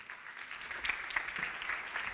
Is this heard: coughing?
no